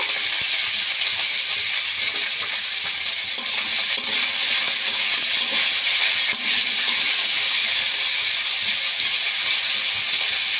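Bitter gourd frying in hot oil for a Bengali shukto, a steady, loud, dense sizzle and hiss running unbroken throughout, with faint stirring beneath and no voices.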